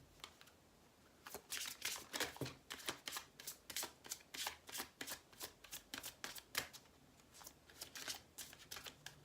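Oracle cards shuffled for a reading, a quick string of sharp papery taps and flicks after a quiet start, close and fairly soft, steady rhythm with no talking.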